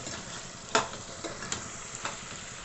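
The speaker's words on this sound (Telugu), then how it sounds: "కసూరి మేతి యాడ్ చేసుకున్న తర్వాత ఒక రెండు నిమిషాల పాటు ఉడికించుకోవాలి" Chicken handi simmers and lightly sizzles in the pan after kasuri methi goes in, with a few soft stirring scrapes at irregular intervals over a low, constant bubbling hiss; no voices.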